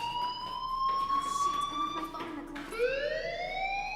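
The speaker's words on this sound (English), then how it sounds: "do you hear that fire alarm?" Fire alarm ringing in the video game Life is Strange Remastered, a loud, steady electronic tone that holds, drops briefly and then rises again, sounding alone without speech.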